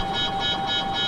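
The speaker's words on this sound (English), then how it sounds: "That's the alarm. We've got an aircraft warning alarm." A submarine's aircraft warning alarm in the VR game IronWolf VR sounds as a loud, steady, pulsing electronic tone that repeats about three times a second, with no talk over it.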